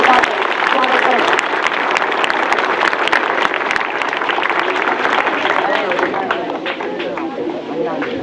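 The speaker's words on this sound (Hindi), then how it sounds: "जोरदार तालियों के साथ स्वागत करें।" A large crowd at an outdoor memorial ceremony for a fallen army captain claps loudly and continuously, a dense wash of applause with some background chatter mixed in.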